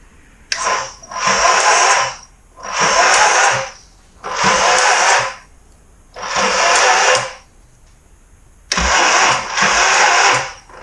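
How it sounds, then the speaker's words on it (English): Starter motor of a 1982 Yamaha XS650SJ motorcycle cranking the cold engine in six loud, close bursts of about a second and a half each, separated by short pauses, with no talking. "it looks like the starter's hurting right now because it's cold as shite out"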